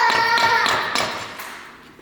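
A bump stop being knocked onto the shock shaft of a Polaris Turbo S during a suspension job, four or five sharp, close metallic taps in quick succession, fading toward the end.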